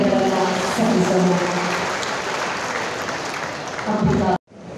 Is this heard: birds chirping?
no